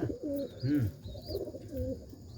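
Domestic pigeons in a loft coo close by in low, rolling phrases that repeat several times. A faint higher chirp sounds under the cooing.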